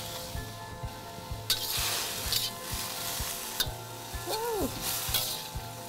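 Cooked beef and broccoli stir-frying together in a pan, a steady sizzle broken by sharp scraping stirs and utensil clatter, with a brief exclaimed voice.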